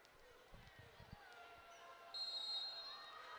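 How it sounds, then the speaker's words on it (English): A referee's whistle sounds at a Michigan versus Ohio State volleyball match, one sharp sustained shrill blast in the arena over crowd noise and ball bounces. "There's the whistle."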